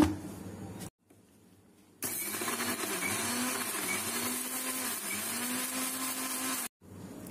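An electric blender grinds fresh strawberries with sugar, no milk yet, for a milkshake, giving a loud, steady motor whir for several seconds that starts abruptly and cuts off, with quieter moments on either side.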